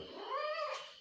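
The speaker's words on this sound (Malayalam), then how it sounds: "അടുത്ത വീട്ടിലെ പൂച്ചയാണ്." A neighbour's cat gives a single short meow, fairly faint and drawn out with a rising then falling tone, alone in a quiet room.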